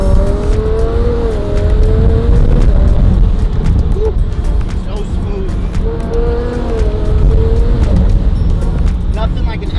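A twin-turbo, all-wheel-drive Lamborghini STO build accelerates hard, its engine loud and close as it climbs through revs with brief tire noise, while someone speaks briefly over it.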